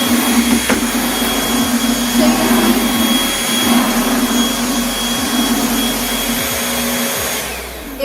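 A Bissell 2033M stick vacuum cleaner runs close by with a loud, steady high-pitched motor whine and airflow roar, holding constant before easing off near the end.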